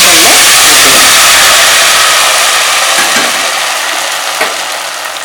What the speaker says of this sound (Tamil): இப்போ இந்த முந்திரி கொஞ்சம் காஞ்ச உடனே இதுல கருவேப்பிலை போட்டு நம்ம எடுத்து ஊற்றிடலாம்